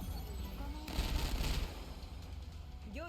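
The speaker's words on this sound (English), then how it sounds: "keep shooting him, keep shooting" Rapid gunfire in the video game Girls' Frontline Exilium, a quick burst of shots about a second long standing out over a quieter background of game sounds.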